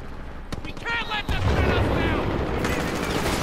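Rapid bursts of gunfire in a video game, dense crackling shots and explosions layered continuously, with people talking excitedly over the game action.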